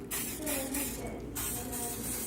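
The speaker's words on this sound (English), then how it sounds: "I'm going to use my cooking spray or coconut oil spray" A short hissing spray of cooking spray bursts out in a few quick puffs close by, with faint background noise around it.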